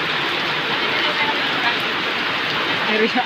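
Rain pours during a long motorcycle ride in bad weather: a dense, steady hiss of falling water fills the whole stretch, loud and close, with faint voices in the background.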